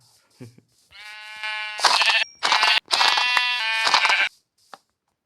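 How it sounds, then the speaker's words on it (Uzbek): Several sheep bleat loudly in long, wavering cries, some overlapping, with short gaps between calls and a few faint bleats before and after. "Qo'ylar."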